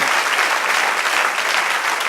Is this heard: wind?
no